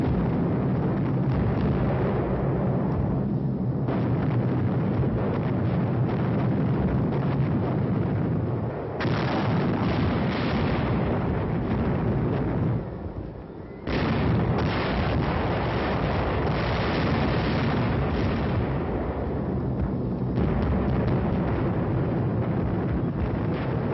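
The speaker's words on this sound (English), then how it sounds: "In 4 hours, 500 tons of bombs were dropped to level the abbey." Heavy bombing of the abbey on Monastery Hill by waves of aircraft, 500 tons of bombs in a wartime raid: a continuous loud roar of explosions and rumbling blasts, with brief lulls, and no voices.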